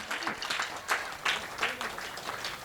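An audience at a village event claps for a man named Sriram, uneven bursts of applause rising and falling in waves while someone speaks over it.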